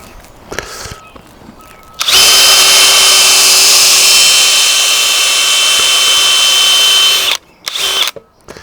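A power drill bores holes into a wooden stand for a 20-gallon long fish tank, whining loudly and steadily for about five seconds, followed by a short extra burst.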